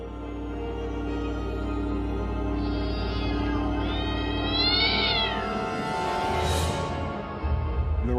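A cat meows repeatedly in clear, rising and falling cries, with one sharper, higher meow near the end, close and alone over a steady background hum.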